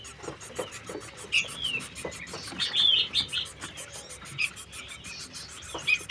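Pelatuk ulam birds kept for sale at a bird kiosk give sharp, repeated high chirps and short whistled calls, close by and fairly loud, over a busy background of other small birds.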